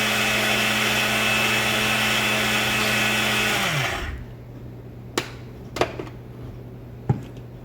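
Mixer grinder pulverising roasted urad dal with jaggery: a loud, steady motor whir for about four seconds that spins down and stops, followed by a few sharp clicks of the jar or lid in the quiet.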